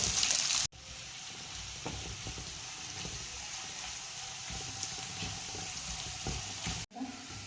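Finely chopped onions fry in a pan for a soya curry, giving a steady, even sizzle with faint stirring scrapes throughout, briefly cut by two short pauses.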